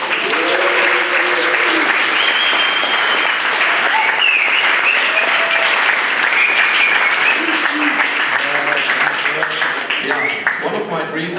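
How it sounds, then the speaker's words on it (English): Steady, dense applause from an audience celebrating a man's birthday, loud and sustained throughout, with a few voices calling out faintly underneath. "I think we should make an applause to his birthday today."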